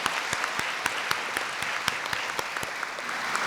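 Ceremony audience applauding warmly at a university founding anniversary celebration, steady dense clapping with sharp individual claps standing out, close and full, no talk over it.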